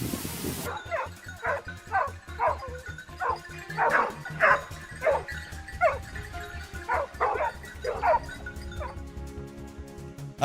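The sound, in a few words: hunting hounds barking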